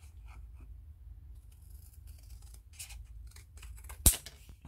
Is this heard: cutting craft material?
yes